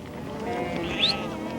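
Herds of non-native sheep and goats grazing among llamas and alpacas bleat over a steady outdoor background, with one high, wavering call standing out near the middle.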